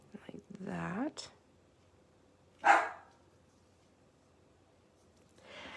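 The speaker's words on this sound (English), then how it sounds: "why Sophie is always barking at the front door" A dog barks at the front door at night: a drawn-out, whining vocal sound, then a single sharp bark a little later and a softer one near the end, with quiet gaps between.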